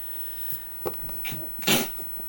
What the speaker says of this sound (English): just sneezing